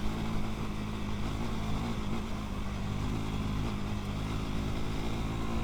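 A 2025 KTM 390 Enduro R single-cylinder engine pulls off-road under throttle with a steady, buzzing drone and slight rises in pitch. It is heard up close from the rider's position, with no talking.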